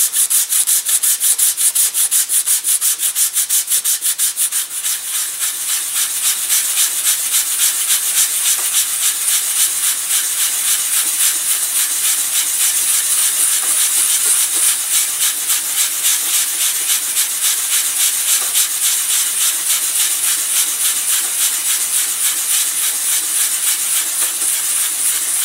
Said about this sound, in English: So I'm going to sand in this area too.